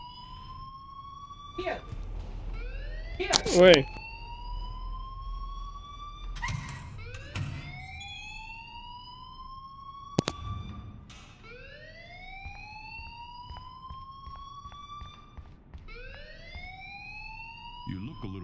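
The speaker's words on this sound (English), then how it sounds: "please turn off that alarm since that's your job" An alarm rings in the video game Life is Strange, with repeated rising electronic whoops sounding in bursts across the clip while a voice speaks briefly and thumps are heard.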